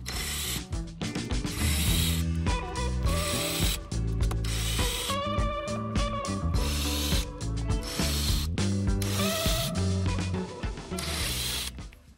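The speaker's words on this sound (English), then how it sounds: "So next we're going to remove these 4 silver screws." A 2.5mm hex driver ratchets out silver screws on an InMotion V11 electric unicycle wheel, producing repeated clicking ratchet bursts in an uneven rhythm, close and fairly loud, with brief pauses between turns.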